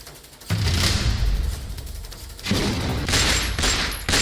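Gunfire and bomb blasts from a street attack caught on CCTV in a narrow lane, with loud crackling bursts of shots and heavy booms in two main waves, harsh and distorted, with no voices.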